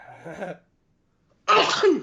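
A single loud, close sneeze bursts out after a short quiet gap, preceded by a faint breathy sound.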